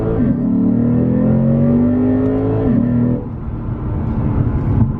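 A Lexus RC performance car accelerates hard from a launch with a little wheel spin, its engine note climbing loudly and steadily through the gears before easing off after a shift.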